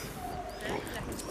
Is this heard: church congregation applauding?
no